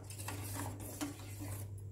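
A spoon stirs milk in a pot, soft faint scraping and clinking strokes over a steady low hum, with no talk.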